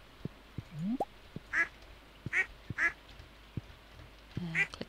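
Ducks in Stardew Valley give several short, separate quacks, spaced out across a few seconds, with soft clicks and thumps between them. The quacks are close and no one talks.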